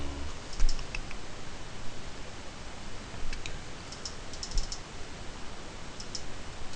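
A sudo install command is typed on a computer keyboard, with faint, quick key clicks in short bursts over a steady background hiss.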